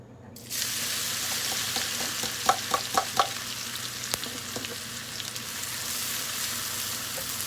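Dry chili and red onion sauté in a hot pan with a steady, close sizzle, punctuated by a few light scraping stirs early on.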